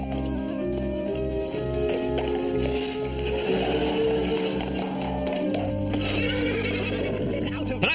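A horse whinnies near a medieval roadside, its neigh rising over a steady background bed with light tapping sounds mixed in.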